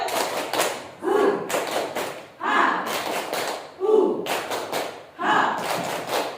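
A group of people performs the tepuk semangat clapping routine: repeated bursts of patterned, rhythmic claps and thumps in roughly even phrases, with voices chanting along.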